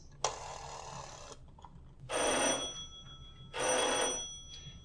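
A telephone rings in two long bursts, with a softer ring at the start, in a radio drama about calling the police department, loud and clear over a low background hum.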